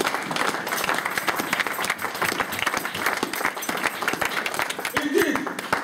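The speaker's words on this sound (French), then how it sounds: "tu acclames très fort Dieu." A church congregation applauds and cheers loudly and steadily, dense clapping with voices calling out throughout.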